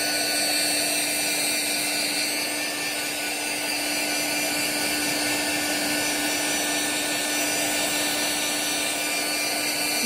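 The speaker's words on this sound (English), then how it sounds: "You can also use your heat gun to move it around." A heat gun blows steadily over poured resin to pop air bubbles, a loud continuous whirring roar with a faint whine that holds nearly unchanged from start to end, with no talking.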